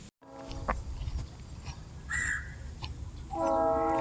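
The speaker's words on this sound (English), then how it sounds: "He loves a train in the distance." A distant train rumbles in the background with faint horn-like tones swelling toward the end, alongside outdoor ambience and a crow cawing.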